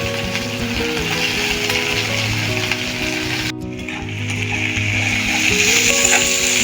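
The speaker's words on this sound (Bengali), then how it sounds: "এবার দিয়ে দেবো পেঁয়াজটা।" Onions hit hot oil in a pan with ginger, garlic and green chillies, and a loud, steady sizzle continues with a brief dip midway before the frying swells again, close up and without talking.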